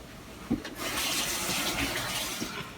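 Tap water runs steadily into a kitchen sink while hands are washed, a close hissing stream that lasts the whole moment and starts after a brief thump.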